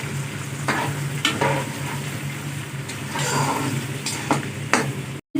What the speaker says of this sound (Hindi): अभी जी 1 कप दूध डालते हैं।